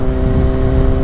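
A 2018 Kawasaki Z900RS Cafe motorcycle rides past at steady speed, its engine droning loud and close with a low, even rumble and steady harmonic hum throughout.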